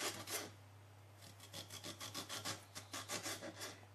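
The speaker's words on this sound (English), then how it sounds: "first of all slice them. Make sure you've got a knife that got teeth, otherwise you're not gonna saw it off." A serrated knife saws through fish in a run of quick, rhythmic rasping strokes, close and soft, with a short pause before a steady back-and-forth series; a low hum sits underneath and nobody talks.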